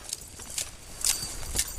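Horse hooves striking the ground in a rhythmic clip-clop while being ridden through a turnaround exercise, a few distinct near hoofbeats.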